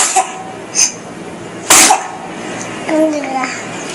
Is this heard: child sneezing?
yes